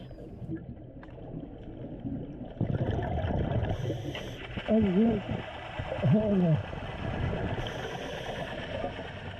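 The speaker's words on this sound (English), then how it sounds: "That's Paul just motoring away from the reef" A small boat's engine hums at mid pitch as it motors away from a shallow rocky reef near a shipwreck dive site, steady and moderately distant, with a person talking over it.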